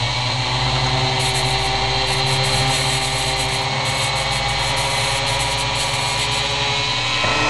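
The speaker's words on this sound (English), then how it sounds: "What I like to do, I just take this Dremel right here." A Dremel rotary tool grinds steadily on a small AR-15 rifle part, a continuous high-pitched buzzing whine with a gritty rubbing texture that runs unbroken and fairly loud throughout, with no talking.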